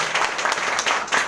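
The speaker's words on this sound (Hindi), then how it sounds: "एक बार आपका जोरदार तालियों से थैंक यू" Enthusiastic applause from an audience at a community event, a dense, continuous clatter of many hands lasting over a second.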